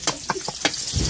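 Food boils in a cooking pot, a handful of sharp bubbling pops and clicks over a soft steady hiss, heard up close with no one talking.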